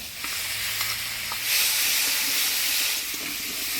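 Boiled potatoes seasoned with turmeric and salt are stirred around a hot pan, making a continuous close hiss and sizzle with soft scraping that swells briefly midway.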